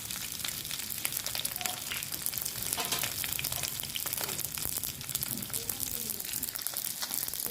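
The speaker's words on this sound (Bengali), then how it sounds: "এখন দিয়ে দেবো একটা শুকনো লঙ্কা ফোড়নে, আর দিয়ে দেবো এখানে কালো সরষে ফোড়ন।" Dry red chili and black mustard seeds sizzle in hot oil for a Bangladeshi sukto tempering, a steady crackling fry with faint stirring that runs the whole way through without talk.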